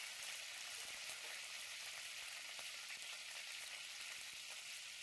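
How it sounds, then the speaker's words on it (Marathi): Curry leaves and mustard seeds crackle and sizzle in hot oil for tempering upma, a steady, close hiss with small pops and no voices. "तेल गरम झाल्यावर त्यात कढीपत्ता, मोहरी घालून तडका देऊया"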